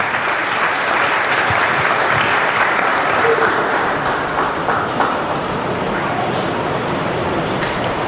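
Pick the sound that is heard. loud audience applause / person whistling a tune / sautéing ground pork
loud audience applause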